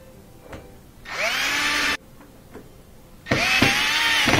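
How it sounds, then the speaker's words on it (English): Power drill driving screws into the panel of a Miele dishwasher: two bursts of high whirring, each about a second long, separated by a short pause with faint clicks and handling taps, close and fairly loud. "We're going to put those screws in."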